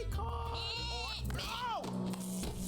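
Cartoon goat bleating in an animated comedy short, a few wavering, nasal bleats mixed with loud character voices and music.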